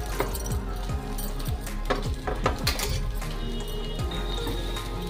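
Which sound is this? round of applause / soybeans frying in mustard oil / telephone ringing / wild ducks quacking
soybeans frying in mustard oil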